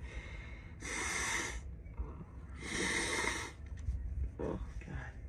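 A woman with morning allergies gives two strong, hissing blasts of nose blowing, close and loud, followed by softer sniffing and breathy snorts.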